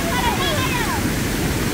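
Rain-fed water overflowing from a swimming pool, heard as a steady broad rushing wash under people talking in Spanish.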